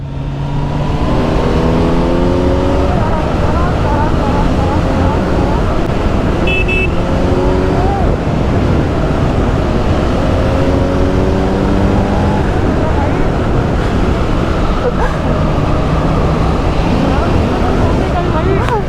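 A Kawasaki Z900 superbike roars loudly throughout, its engine rising through repeated revving sweeps as it accelerates and shifts on a road near Mussoorie, with heavy wind noise and a voice talking at times.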